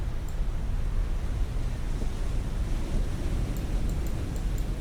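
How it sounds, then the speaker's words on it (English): Steady ocean waves and surf wash around a surfaced submarine in the naval game Cold Waters, set in 1984, a continuous broad rush with wind noise and no talk. "Wait for the waves"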